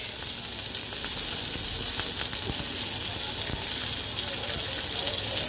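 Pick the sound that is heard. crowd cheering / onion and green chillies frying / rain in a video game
onion and green chillies frying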